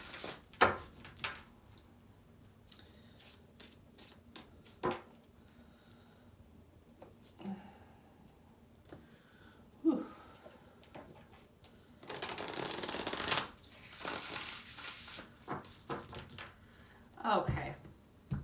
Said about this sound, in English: So let's go ahead and pull the cards.